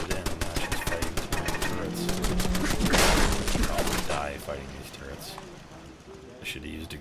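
Automated turrets fire in Fallout 4 while a settler fights them, with rapid bursts of gunfire running continuously alongside other battle noise as a voice talks over it.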